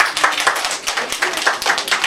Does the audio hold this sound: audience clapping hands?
yes